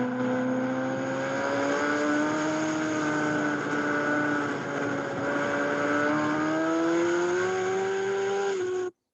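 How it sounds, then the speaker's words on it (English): A motorcycle engine on a race track rises and falls as the throttle opens and closes, its sustained whine sweeping in pitch over several seconds before cutting off abruptly. "you can hear the throttle on and off"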